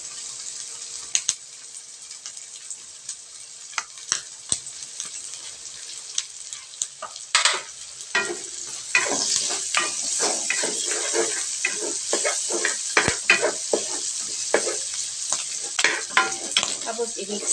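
Garlic and onion sauté in a pan for a pork guisado, a steady bright sizzle with frequent scraping stirs and clacks of a utensil, close and continuous, growing busier midway with no talking.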